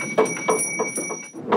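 A flour mill's warning bell, set free when the grain runs low, rings in a quick repeated series of bright metallic strikes with a steady high ringing tone beneath, close and clear, no talking.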